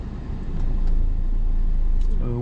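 A car reversing slowly during a driving lesson, giving a steady low engine rumble that swells slightly and holds, close and continuous, with no talk over it.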